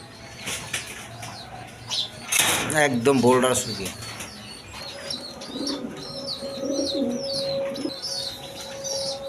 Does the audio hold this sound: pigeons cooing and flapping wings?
yes